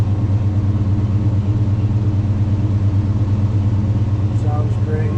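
A 1965 Chevrolet Chevelle Malibu SS convertible idles close by, its exhaust giving a deep, steady, throbbing rumble, with a voice briefly over it.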